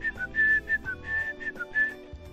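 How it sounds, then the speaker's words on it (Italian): A person whistles a simple made-up tune in a short run of clear, bright notes, some held and some quick, close and alone with a soft background hum. "Si fischietta poi un semplice motivetto"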